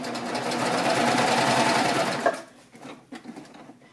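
Close, loud, fast whirring of a serger sewing machine stitching a pillowcase with piping, running steadily for about two seconds before stopping, followed by soft handling clicks and rustles.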